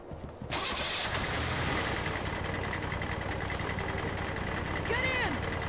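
A vehicle engine in the Red Faction Guerrilla video game cranks and catches after a brief pause, then settles into a steady mid-pitched idle rumble, close and fairly quiet.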